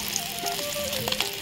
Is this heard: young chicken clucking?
no